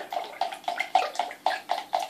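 Water poured in quick repeated splashing glugs into a liquid corn-syrup-based fishing bait flavour mix with betaine, about eight rhythmic bursts, close and fairly quiet.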